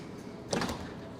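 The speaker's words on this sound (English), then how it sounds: "No, they locked the door on me." A door being locked, heard as one short, moderate mechanical clack about halfway through, set against quiet room noise.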